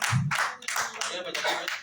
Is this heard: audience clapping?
yes